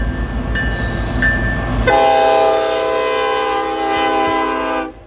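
A Norfolk Southern freight train rumbles by in Chattanooga, and its horn starts with short toots before blaring in one long, loud chord over the rolling noise, then cutting off sharply.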